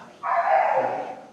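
A single drawn-out bark or whine from a Lhasa mix stray dog named Sam, close and fairly loud, lasting about a second with no talking.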